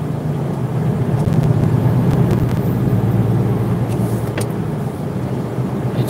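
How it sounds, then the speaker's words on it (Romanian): A bus speeds past on a road, a steady, loud broadband rush of engine and tire noise that holds through the whole stretch with no talking. "Ăla cu autobuzul a trecut cu viteză."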